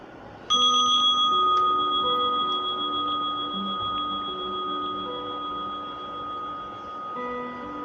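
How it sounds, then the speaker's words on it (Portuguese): A single meditation bell is struck once, then rings out with a clear sustained tone that decays slowly over several seconds in quiet surroundings. "Começa com o toque de um sino e termina com 3 sinos."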